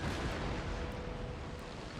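Naval cannons firing in the warship game Imperial Destroyer: a dense, continuous wash of booming broadside shots and rumbling blasts, loud and sustained with no talk.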